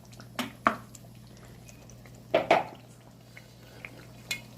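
A spoon stirs chicken curry in a metal pot, giving several irregular clinks and scrapes against the sides, loud and close, with short pauses between strokes and no one talking.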